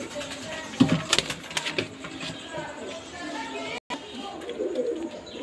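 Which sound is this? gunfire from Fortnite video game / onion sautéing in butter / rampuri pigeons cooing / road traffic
rampuri pigeons cooing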